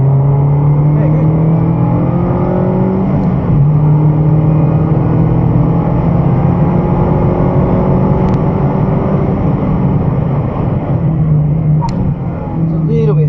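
Car engine on the Broadford race track, a loud steady close-up drone that climbs in pitch under acceleration, with small dips at gear changes, and voices talking over it.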